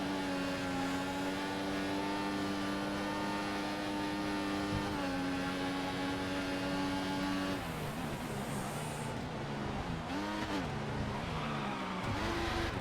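Formula 1 car engine in the F1 2014 racing game screaming at full revs, a loud continuous high-pitched whine with steady harmonics, dropping and rising through gear shifts and braking in the second half, with no talk.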